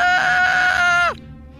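A woman's long, high-pitched scream rings out loud and close, holding steady for about a second before its pitch sags and breaks off into quiet room tone.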